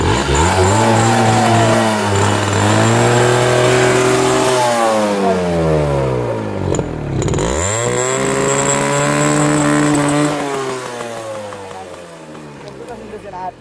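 A motorcycle engine revs up and down repeatedly inside a tea garden, loud and close, its pitch rising and falling in long sweeps with a brief dip midway.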